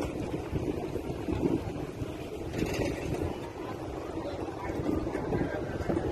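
Gusty wind at Mercedes Bay buffets the microphone on a fishing outing in a continuous low roar, with faint water and boat noise underneath.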